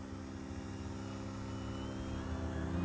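A radio-controlled 3D aerobatic plane gets throttle added to arrest an elevator descent, its propeller drone a steady buzzing whine that holds throughout and builds slightly in loudness, with a high engine tone above.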